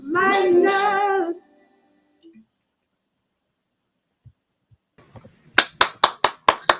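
A short burst of hand clapping, about six sharp claps in a quick run, comes after a stretch of talk and near silence, close and fairly loud.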